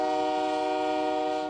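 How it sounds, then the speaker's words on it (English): A freight train hauling crude oil from the Bakken fields sounds a loud, sustained, harmonic horn blast, steady and close, trailing off at the very end. "Every day, mile-long trains from the Bakken oil fields of North Dakota pass through Albany, New York."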